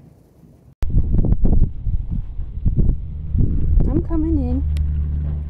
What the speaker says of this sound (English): Wind. I was about to lose my hat.